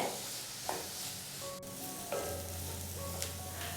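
Onions sauté in a pan for a Kerala green peas curry, a moderate steady sizzle with a few scraping stirs and a low hum in the background.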